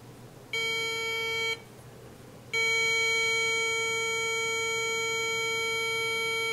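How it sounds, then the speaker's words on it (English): A phone app sounds an electronic signal tone after its dispense button is pressed, part of an Arduino setup linked by Bluetooth to a Lego Mindstorms EV3 robot: a one-second steady beep, a short gap, then a longer sustained tone. "I'm going to click on the dispense button, and you'll hear a signal"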